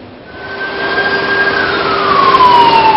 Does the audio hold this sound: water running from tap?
no